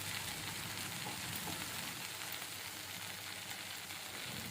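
Telangana-style okra fry being stirred lightly in a hot pan, a dense, steady sizzle with soft scraping from the stirring, close up and without any voices.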